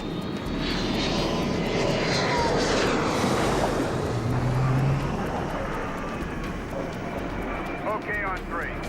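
An F-4 Phantom jet approaches an aircraft carrier to land at about 150 miles per hour, its engines a loud, steady roar that fades slightly toward the end, with a voice speaking over it.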